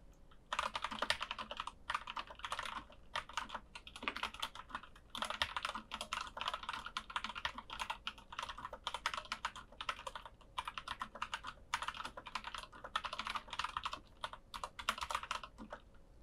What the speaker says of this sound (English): Let's see how fast I can type.